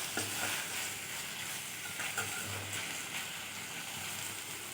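Onions with curry leaves sautéing in a pan for masala dosa filling, a soft steady sizzle with occasional light scraping and stirring strokes, fairly faint and without voices.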